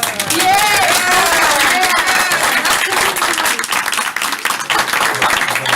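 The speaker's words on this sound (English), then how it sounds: "Ask you to refrain from clapping and things, please." Audience applause and clapping fill a board meeting room, loud and sustained for several seconds, with crowd noise and voices mixed in.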